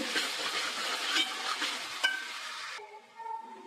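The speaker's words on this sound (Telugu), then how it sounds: "కొత్తిమీర బాగా కలుపుకొని తర్వాత కొబ్బరి ముక్కలు యాడ్ చేస్తున్నాము" Coconut pieces and coriander are stirred into a sizzling masala curry in a pan, giving a steady close frying hiss with scraping that fades after a few seconds.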